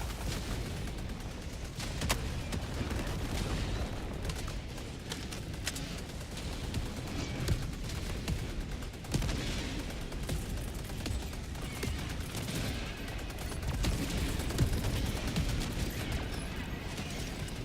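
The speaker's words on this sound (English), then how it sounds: "Firing orbital barrage." An orbital barrage artillery strike in a video game: a dense, sustained volley of distant booming impacts and crackling blasts rolling on steadily at moderate volume.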